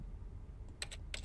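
Quiet in-game keyboard typing from The Stanley Parable Ultra Deluxe: a few faint scattered keystrokes, then two short clusters of clicks over a low background hum.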